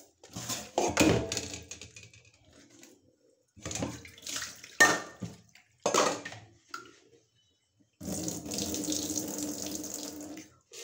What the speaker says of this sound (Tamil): அரிசியை கழுவிடும்.